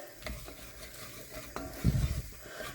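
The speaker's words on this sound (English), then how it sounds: "Give that another little mix" Food being stirred in a pan during home cooking, with soft scraping strokes over a low background sizzle and a louder burst of stirring near the end, close and alone without talk.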